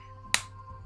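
A single sharp hand clap rings out close, one brief crisp crack over a faint background hum.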